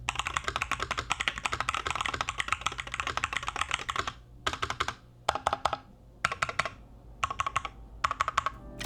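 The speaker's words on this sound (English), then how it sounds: "the metal base absolutely changes the way this keyboard sounds" Rapid clacky typing on a MelGeek MADE68 Ultra mechanical keyboard with a metal base, first in a continuous stream, then in short bursts separated by brief pauses, close and crisp.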